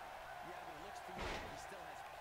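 In the WWE 2K18 video game, a wrestler's body hits the mat with a single dull, heavy thud in the middle of a brief stretch. A constant roar of crowd noise fills the background.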